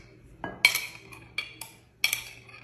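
A metal spoon scrapes pizza sauce into a bowl, giving several sharp, close clinks and taps in an irregular rhythm against a quiet background hum.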